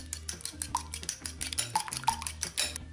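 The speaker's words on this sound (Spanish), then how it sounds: "Vamos a batir los huevos." Eggs being whisked by hand in a bowl for Colombian soft bread dough, with repeated clinking of a utensil against the bowl in an irregular, brisk rhythm, close and moderately loud.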